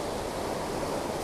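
Steady broadband rush of the clear Līgatne river in Latvia flowing near a crossing point, continuous and fairly loud with no voices.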